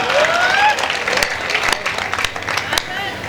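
An audience at a Hindi poetry gathering breaks into a brief burst of clapping, loud and close at first, with a voice speaking over the claps as they thin out.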